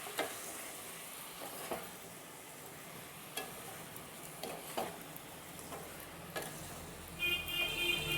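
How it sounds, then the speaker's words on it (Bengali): Sweet mango pickle thickened with melted sugar being stirred in a pan so it does not stick, a soft bubbling sizzle with occasional spoon scrapes and clinks, quiet and close. "এইভাবে আমাকে নাড়তে হবে যাতে তলায় লেগে না যায়।"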